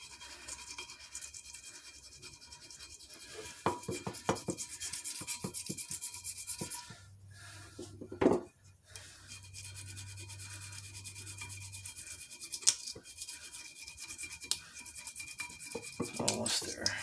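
A blade scrapes old gasket material off the rear differential of a 2003 Jeep Wrangler TJ with a Dana 44 axle in continuous close rasping strokes, with one louder knock partway through.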